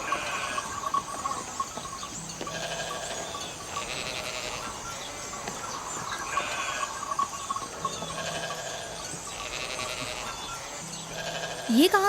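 A flock of sheep bleats repeatedly in drawn-out wavering calls over a steady background hum, the cries overlapping at moderate distance and recurring every few seconds.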